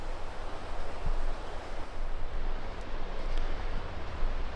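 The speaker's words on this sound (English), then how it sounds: "They got multiple waterfalls right next to each other" Several waterfalls at Hedge Creek Falls in Dunsmuir, California, a steady broadband roar of rushing water that stays close and constant, with no voices.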